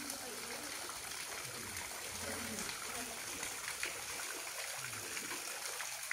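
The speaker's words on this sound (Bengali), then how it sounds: "ব্যাপক রুটের থ্রু দিয়ে জলটা পড়ছে, সুন্দর।" Water from a waterfall pours down through tangled tree roots in the Mawkdok Dympep valley near Cherrapunji, making a steady, even trickling rush throughout, with faint voices underneath.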